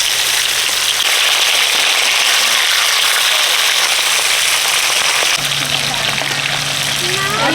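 Turmeric powder and ground spice paste hit hot oil for a Bengali fish curry, giving a loud, steady crackling sizzle throughout with a few sharper pops near the end.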